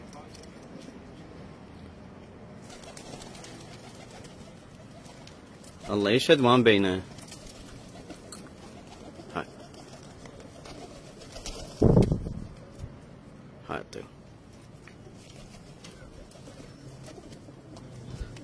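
Male pigeons kept for sale coo in two short bursts, a few seconds apart, while someone talks over a quiet indoor background.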